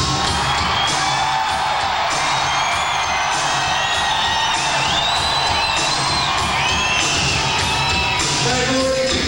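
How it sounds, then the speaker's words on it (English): A huge arena crowd roars and whoops continuously at a live rock concert in Hollywood, 1987, with loud dense cheering and scattered shrill yells throughout. "it should also be the loudest crowd"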